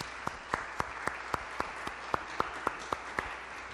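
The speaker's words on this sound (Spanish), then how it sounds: "Yo, mientras tanto, pido un fuerte aplauso por tu tiempo" An audience applauds an artist at a public talk with artist Gabriel Cisneros Báez. The applause is faint and distant, with a soft wash of clapping under a steady, evenly spaced beat of sharper claps.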